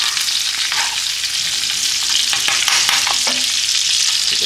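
A New York strip steak sizzles loudly in butter in a pan while being basted with thyme, with steady frying hiss and scraping stirs and spoon clinks throughout, no voices.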